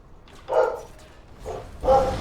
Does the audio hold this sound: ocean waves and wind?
no